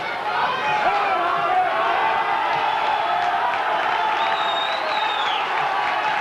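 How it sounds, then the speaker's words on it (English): Rugby league crowd at a Widnes match, a broad continuous roar of cheering and shouting from a large crowd, steady and dense throughout with no single voice standing out. "Well, Widnes crowd have come alight now."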